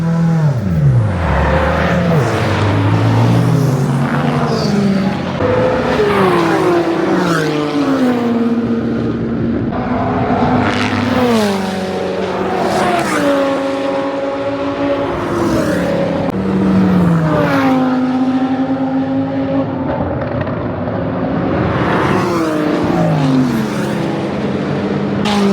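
Sports cars racing around the Silverstone circuit during a BRDC track day, engines roaring loudly and continuously with repeated rising and falling gear-change sweeps as cars pass nearby.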